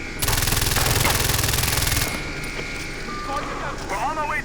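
Rapid automatic gunfire from a weapon in Far Cry 4 gameplay, a loud burst of fast repeated shots lasting about two seconds, then quieter game sounds with a voice speaking.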